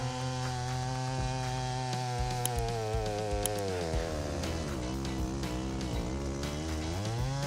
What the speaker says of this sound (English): The Style 90 chainsaw can handle oak with precision and great prestige in a short